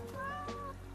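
A cat's meow from the video game Curiosity, one drawn-out tonal call sitting over a steady game background hum, fairly clear and close.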